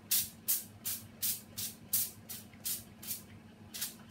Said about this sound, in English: Spray well with fry light.